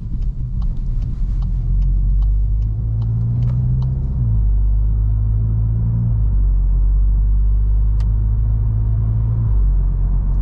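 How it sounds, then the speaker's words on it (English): Loud, steady engine drone from inside a 2022 VW Golf GTI SE DSG turbocharged hatchback on the road, its low hum rising with speed and stepping down at gear shifts, with no talk. "that turbo just pulls you right through"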